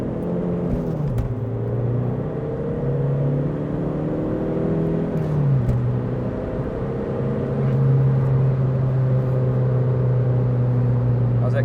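A VW Polo PD130 1.9 TDI diesel hatchback accelerating hard on a test drive, its engine note climbing through the gears with a steady interior drone and rising pitch, moderately loud and without talk.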